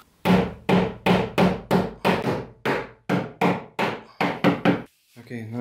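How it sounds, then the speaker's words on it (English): A rubber hammer taps wooden dowels into a brushed oak JYSK EJERSTED wardrobe panel: about fourteen sharp, close knocks in a steady rhythm, with one brief pause, heard alone. "A rubber hammer can help also."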